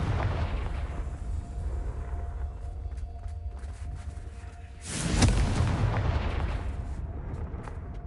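A Confringo blasting spell in Hogwarts Legacy goes off as a loud, booming burst about five seconds in, its broad roar rising over a steady low rumble and fading slowly.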